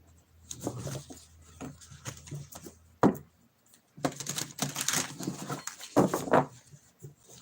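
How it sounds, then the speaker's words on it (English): Quick bursts of papery riffling and soft slaps as tarot cards are shuffled, repeated several times close by with short pauses between. "Let me just shuffle these one more time."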